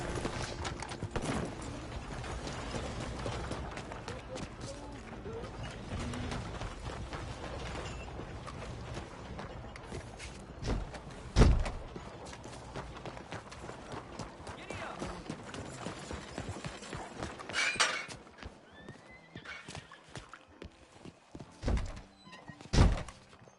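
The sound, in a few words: horse hooves, from video game Red Dead Redemption 2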